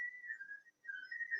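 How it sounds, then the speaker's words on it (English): A 3D printer gives off a thin, steady whistling tone that wavers slightly in pitch, breaks off for a moment, then resumes; quiet and alone, with no voices. "The whistling, like I said, it's a 3D printer."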